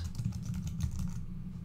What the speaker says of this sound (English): I'll press the Tab key and start typing the name of the project